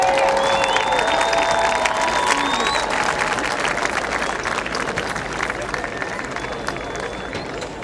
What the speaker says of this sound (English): You owe him a big round of applause.